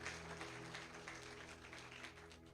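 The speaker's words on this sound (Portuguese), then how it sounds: "igreja, aplauda o nome do Senhor" A church congregation applauding during a Sunday Mother's Day service: a continuous patter of clapping, fairly soft and even, with a low musical drone underneath.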